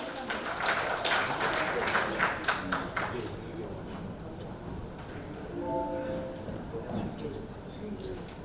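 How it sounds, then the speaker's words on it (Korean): Applause from the audience at a Korean Rotary district training seminar, dense clapping for about three seconds that then fades into a quieter room with a voice speaking over it. "다시 한번 큰 박수 부탁드리겠습니다"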